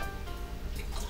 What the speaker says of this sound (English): I dissolved a little honey into some hot water, and I'm going to pour that into here.